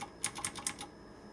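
Keys pressed on a Gamdias Hermes Ultimate gaming keyboard, about six quick, crisp clicks in a short, fairly even burst, close and quiet, with no talk over them.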